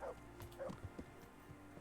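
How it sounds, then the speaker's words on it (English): A dog in the video game Kingdom Come: Deliverance barks and yips faintly in short bursts, sounding distant and a little muffled, with a low steady hum underneath. "What are you barking at?"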